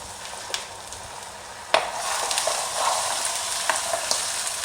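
Fish pieces crackle and sizzle as they hit an oiled pan, a sharp burst followed by steady, close frying hiss with scattered pops.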